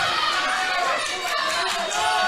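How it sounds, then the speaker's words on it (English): A rowdy crowd at a combat fight event roars and shouts continuously, a dense wash of many voices filling the arena for the whole stretch. "The crowd are getting rowdy in here on this one as well."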